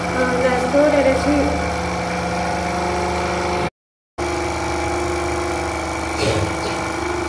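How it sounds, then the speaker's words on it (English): A BLDC motor spins a flywheel in a bi-directional energy storage setup, giving a steady mechanical hum and whine, briefly cut to silence midway, with a voice talking over it. "the BLDC motor is rotating"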